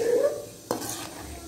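Semolina roasting in a pan for suji halwa, a soft dry stirring scrape with one sharp spoon knock against the pan and a faint sizzle underneath.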